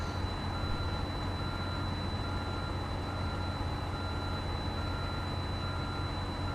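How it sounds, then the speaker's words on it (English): Reversing beeper on a truck in the American Truck Simulator game, a steady electronic tone droning continuously over constant engine and road rumble, with no talking. "This frickin' beeper is driving me nuts."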